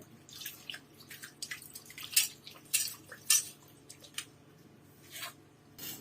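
Water splashing and dripping while a blackened iron tawa griddle pan is rinsed clean, with soft squishy scrubbing and irregular wet splashes close by, no talking.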